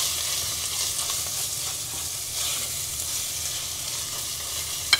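Chilli flakes and ground spices fry gently in a pan with an even, moderate sizzle and soft hiss, a brief sharp clink right at the end, and no voices.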